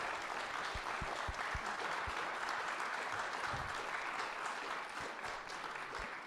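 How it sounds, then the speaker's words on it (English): An audience applauds candidates for judge at a local primary candidate forum, with steady, moderately distant clapping from start to finish and a few low thumps near the beginning. "Let's give a big round of applause to the judge candidates."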